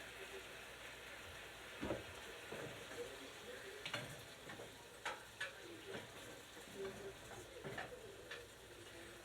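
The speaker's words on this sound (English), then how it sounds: "Throw some butter on there to do a final caramelizing." Butter sizzling in a pan with a T-bone steak: a quiet, steady crackling fry with scattered pops and stirring clicks, fairly faint throughout.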